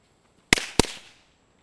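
Two sharp firework blasts set off together against a banana, close and loud, the second following a quarter second after the first, each trailing into a brief rumbling decay before silence.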